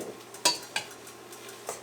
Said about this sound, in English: Now we're just going to go ahead and stir this up